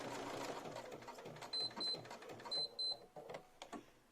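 Domestic sewing machine stitching lace motifs with a zigzag stitch: a quiet, steady mechanical whir and rapid needle clatter, broken by a few short high beeps from the machine near the middle, in a quiet room.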